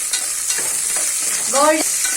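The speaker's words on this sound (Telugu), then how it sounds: "గోల్డెన్ బ్రౌన్ వచ్చేంత వరకు బాగా వేయించుకోండి" Chili and onions frying in a pan for mushroom biryani, a loud, steady hiss of sizzling oil with a few light stirring scrapes and a brief squeaky scrape of the spatula near the end.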